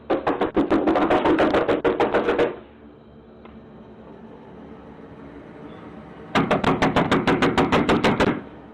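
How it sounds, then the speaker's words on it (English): Rapid, loud knocking on a house door, a fast burst of blows lasting a couple of seconds, a pause of near quiet, then a second equally forceful burst. "I'm knocking on the door and there's nobody answering."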